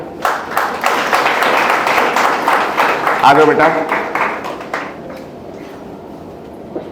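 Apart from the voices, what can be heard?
students applauding loudly as a name is called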